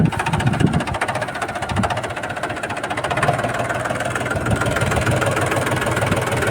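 A tractor engine chugs steadily at close range, a loud rhythmic diesel rumble with no voices.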